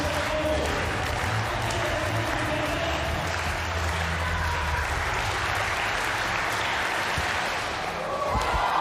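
Loud, sustained applause and crowd noise fill an indoor athletics meeting during the high jump, a steady roar of clapping that never lets up, with some voices mixed into the din.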